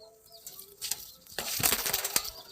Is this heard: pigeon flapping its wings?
yes